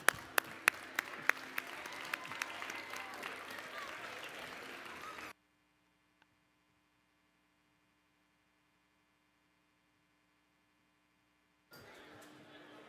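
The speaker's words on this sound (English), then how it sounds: "let's give a round to everybody competing and everybody that is still here cheering us on first off" Applause from a crowd for the competitors at a Ramp Riot event, steady clapping with a few sharp louder claps near the start, lasting about five seconds before cutting to near silence, then briefly resuming at the end.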